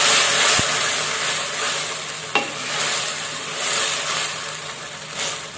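A spoon stirring rad na gravy in a pot, a soft steady scraping swirl with a light sizzle underneath and one sharp tap of the utensil midway.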